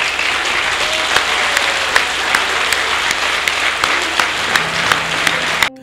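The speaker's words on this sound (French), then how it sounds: "nous nous mettions debout pour saluer de façon appuyée par des applaudissements nourris son Excellence Monsieur le Président Goïta" Sustained, dense applause from a large audience at a Malian official ceremony honoring the president, steady and loud with occasional sharper claps, cutting off at the end.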